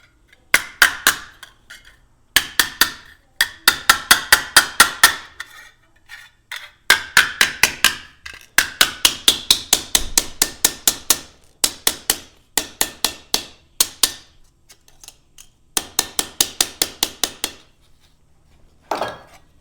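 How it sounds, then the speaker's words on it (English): Small ball peen hammer striking a copper sheet to flatten a ridge while shaping a feather, delivered in quick bursts of roughly six to ten sharp, ringing metallic taps separated by short pauses, close and loud with no talking. "I'll just use this small ball peen hammer to hammer down this ridge"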